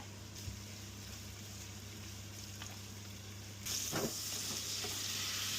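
Chopped garlic and carrot frying in hot oil with prawns, a steady close sizzle with occasional stirring scrapes, and the hiss swelling louder partway through.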